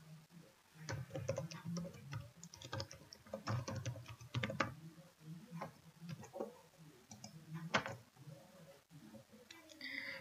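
Computer keyboard typing in quiet irregular bursts of key clicks, close and soft, pausing briefly between runs.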